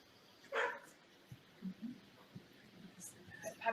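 A few short puppy barks and yips, one sharp bark early then scattered little whimpers and yaps, mixed with faint kitchen noise and some talk.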